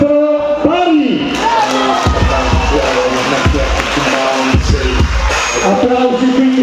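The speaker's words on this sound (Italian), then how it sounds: "Applausi quindi per entrambi Mattia Baglio e Mandel Cason" Loud arena crowd noise at an Olympic boxing bout between Mattia Baglio and Mandel Cason, a dense roar with bursts of cheering and applause, mixed with background music and an announcer speaking over it.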